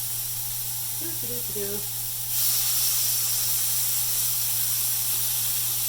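Chicken thighs fry in a hot, smoky pan with a steady sizzling hiss that grows louder partway through. Brief voice sounds come early on.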